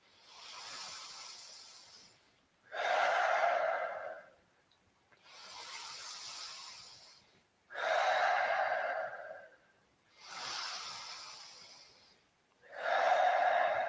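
Slow deep breaths during a yoga session, six in all: soft drawn-in inhales alternating with louder, breathier exhales, each lasting about two seconds, close and quiet with no talking.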